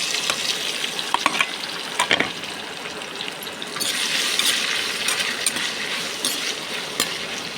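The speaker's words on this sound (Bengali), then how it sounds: "এবারে দিয়ে দিলাম কুচানো আনারস।" Chopped pineapple sizzles steadily in a hot pan of spiced oil for an achari-style dish, with a sharp hiss swelling midway and occasional clinks and stirring scrapes of a utensil against the pan, no voices.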